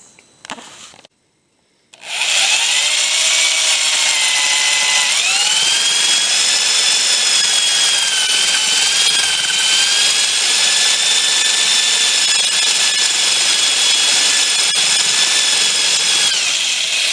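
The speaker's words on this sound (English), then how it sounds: "I think first I'll drill the holes" A power drill bores holes in wood for a carving, running as one loud, steady, high whine that starts abruptly about two seconds in and holds to the end, shifting pitch slightly partway through.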